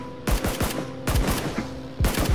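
Video game gunfire in three loud, sharp bursts of rapid shots, each burst followed by a short gap, close and dominant with no talking over it.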